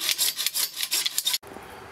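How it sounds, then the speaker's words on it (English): Rapid hacksaw strokes cutting plastic tubing for a DSLR LCD viewer loupe, a close rhythmic rasping of about ten strokes that stops abruptly before a quiet tail. "Take an ordinary hacksaw and cut on or close to the focus line that you drew."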